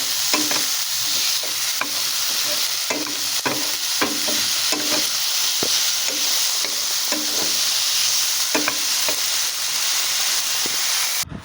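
A spatula stirs an ampalaya and mushroom stir-fry in a hot pan, giving repeated scraping strokes in a loose rhythm over a constant sizzle of frying oil.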